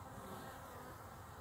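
Honey bees buzz at a hive entrance on a late-November day, a faint, steady, unbroken hum.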